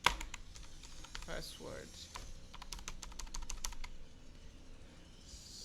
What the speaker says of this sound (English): we need to type here nav user